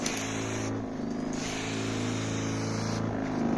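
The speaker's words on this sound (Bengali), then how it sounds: "এই মোটরের খুবই পাওয়ার খুবই পাওয়ার এই যে দেখেন বাবা প্রচুর ফগ হয়" Motor of a rooftop garden fogger machine running at high speed, a loud steady buzzing drone with a strong low hum and slight pitch wavering, close up.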